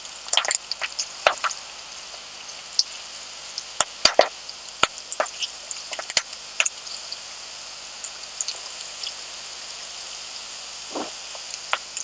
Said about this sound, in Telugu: కరివేపాకు వేయగానే చిట్టపట్ట అంటుంది